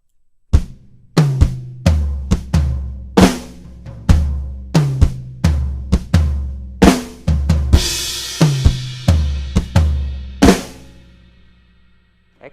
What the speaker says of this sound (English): You can play without it as well, and you'd sound like this.